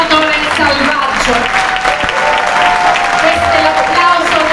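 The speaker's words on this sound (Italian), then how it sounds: "Questo è l'applauso del pubblico di Ratalmuto" A theatre audience at a lyric music concert in the Teatro Regina Margherita claps steadily, loud, dense and unbroken throughout, with faint sustained tones held beneath the applause.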